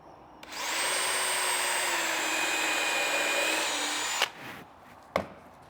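A power drill bores a countersink hole in wood during a lean-to build, a close, loud whine held steady for about three and a half seconds before cutting off, followed by a couple of sharp clacks.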